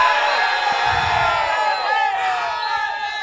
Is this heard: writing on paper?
no